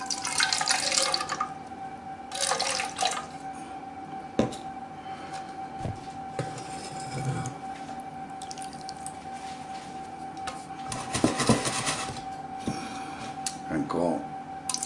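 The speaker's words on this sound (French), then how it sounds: "on va mesurer 5 centilitres d'eau" Water being measured out for making caramel, with short bursts of running water and drips into a container near a steady background hum, while a person talks between pours.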